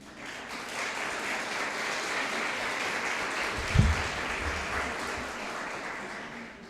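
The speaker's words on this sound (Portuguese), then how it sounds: "Vamos louvar o Senhor com as nossas palmas?" A church congregation claps hands together in praise during an evening service, a steady, even wash of applause with one brief heavier thump partway through.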